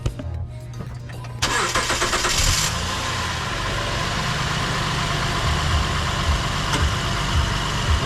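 A 2012 Acura MDX engine cranks over at about 1.4 seconds with a brief starter whir, then catches and settles into a steady, fairly loud idle that runs to the end.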